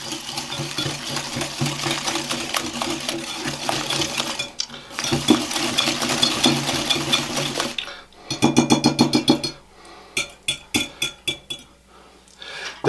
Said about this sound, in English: we're going to take 2 eggs at room temperature preferably, and add a half cup of sugar, and we're just going to whisk these together